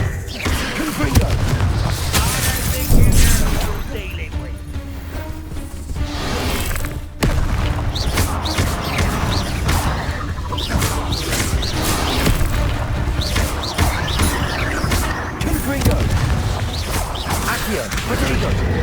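Confringo blasting spells exploding in Hogwarts Legacy gameplay, a series of booming impacts and crashes amid game action and music over nearly twenty seconds, with a voice speaking at points.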